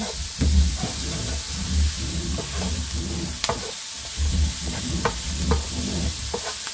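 Onions frying in a pan for currywurst, a steady sizzle with repeated stirring scrapes and clicks of a utensil, fairly close and continuous, with no talking.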